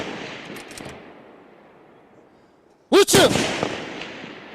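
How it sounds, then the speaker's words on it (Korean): South Korean army snipers fire at targets on a range: after a long fading tail from an earlier report, a sudden loud, sharp crack of gunfire bursts out with echoing decay, while a man calls out a short command. "거리별로 다양한 표적을 향해 정밀 조준 사격을 실시합니다"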